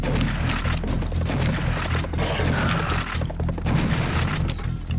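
Dense, continuous gunfire and explosive booms from the video game Serious Sam HD: The First Encounter, a loud sustained barrage of rapid shots with heavy low rumble filling the whole stretch.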